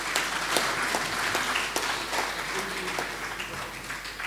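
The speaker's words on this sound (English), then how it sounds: "Please, can we give him another round of applause?" A hall audience gives a speaker another round of applause at a live event, many hands clapping in a dense, steady burst lasting several seconds with no talk over it.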